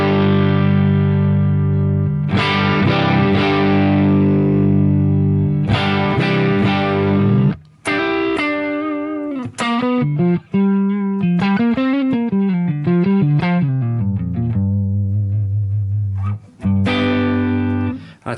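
An electric guitar runs through a Timmy overdrive model in a Line 6 Helix, giving a lightly driven, transparent tone as sustained chords give way to a busy lead phrase of quick bent notes, loud and alone.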